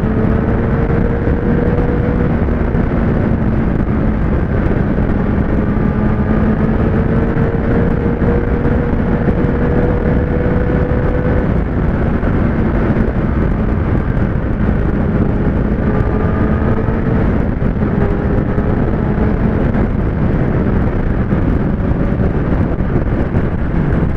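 A Kawasaki ZX-10R engine pulls hard and steadily as it accelerates, with rising tones climbing repeatedly through the gears. Heavy wind noise buffets the microphone throughout the clip, and no one speaks.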